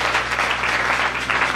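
A church congregation breaks into loud, steady applause during worship, the clapping dense and close and holding evenly through the short moment.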